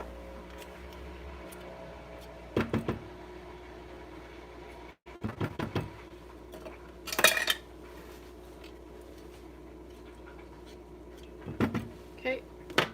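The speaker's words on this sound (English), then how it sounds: "So I have nothing better to do than wash dishes." Dishes and cutlery clink and clatter in a kitchen sink during washing, occasional sharp bursts of clanking scattered between quieter stretches, close by, with some talking.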